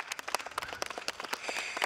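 Audience applause for Oleg Volontir at the Lae Bucalae 2023 festival, a quiet scatter of hand claps with uneven rhythm, fairly faint and without voices.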